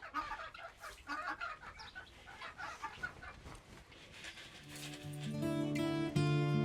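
Chickens and guinea fowl in a coop give soft, scattered clucks, and a louder, drawn-out tonal call rises near the end.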